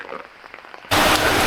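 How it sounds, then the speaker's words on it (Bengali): Heavy rain suddenly pours down after a quieter first second, becoming a loud, dense, steady roar of downpour close by. "মুষলধারে বৃষ্টি পড়িয়াছে"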